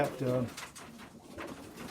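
Soft, low cooing of racing pigeons nearby, a couple of throaty rolling coos against light background noise, in South Africa.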